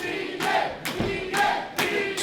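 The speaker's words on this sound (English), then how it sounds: "The crowd chanting vegan here." Wrestling arena crowd chanting in rhythmic bursts, loud, with pauses between repeated shouts.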